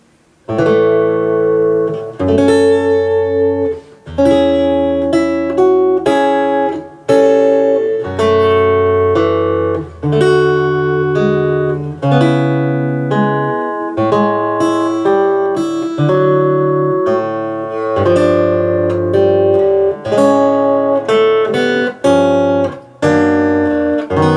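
A guitar picks a melodic line over plucked bass notes, notes ringing clearly with short gaps between phrases, played solo and close.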